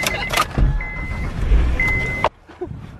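A car in winter, heard from inside with a steady engine and road rumble, door and cabin clunks, and a thin whine before it cuts off sharply near the end, leaving near silence with a few small knocks.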